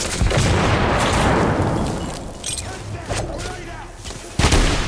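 Grenade blast in The Order: 1886 combat, a heavy boom with rolling gunfire around it, loud and close, then a sharp burst near the end; shouted voices mix in.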